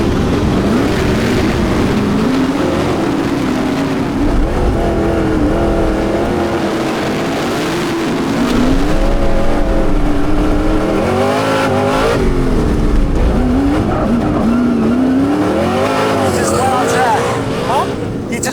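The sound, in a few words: race cars starting a race on track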